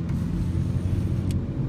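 Steady low rumble of a moving car heard from inside the cabin, a constant road and engine drone with no talk, apart from a couple of small clicks.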